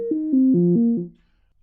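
An analog modular synthesizer runs a short sequence of about six stepped tones with sample-and-hold filter modulation, close and clean, each note shifting in timbre before a quick decay into silence.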